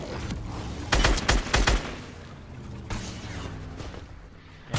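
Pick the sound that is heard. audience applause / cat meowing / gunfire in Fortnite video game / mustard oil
gunfire in Fortnite video game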